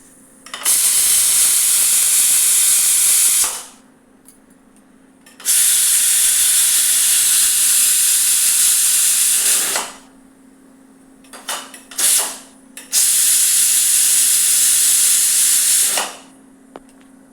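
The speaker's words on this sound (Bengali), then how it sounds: "এবারে কুকারে ঠিক একটা সিটি দেওয়াবো আর সাথে সাথে কুকারের গ্যাসটা খুলে দেবো।" A pressure cooker on a gas stove vents steam in three long, loud hissing whistle bursts of about three to four seconds each, separated by short quiet gaps and a couple of brief puffs, with a low steady hum underneath and no talking.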